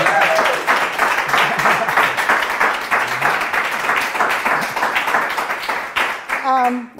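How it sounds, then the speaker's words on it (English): Applause from a jazz concert audience, a dense steady patter of clapping lasting several seconds before tapering off. "give them a big round of applause"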